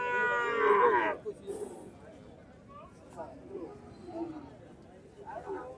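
Cattle and calves at a busy cattle market, with one loud, close moo at the start followed by fainter, more distant lowing and crowd murmur, while people talk throughout.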